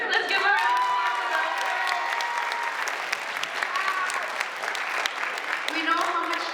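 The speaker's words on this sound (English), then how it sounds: "Let's give her a round of" Sustained applause from a sizable crowd at an assembly, steady and full throughout, with a few scattered cheers and voices mixed in.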